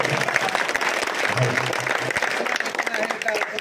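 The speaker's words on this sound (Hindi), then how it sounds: "शेर के लिए दोस्तों जोरदार ताली बजाती है।" An audience at an Urdu-Hindi poetry mushaira in Chinawal, Burhanpur, breaks into loud, dense, continuous applause with crowd noise, while someone speaks over the clapping.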